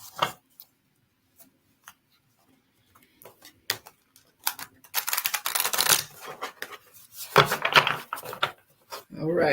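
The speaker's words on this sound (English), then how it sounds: "All right, last shuffle." A tarot deck is shuffled close by, with quiet scattered card taps at first, then a burst of dense riffling and flapping that grows louder toward the end.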